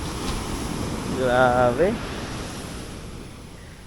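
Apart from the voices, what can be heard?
waves on a white sand beach in Samar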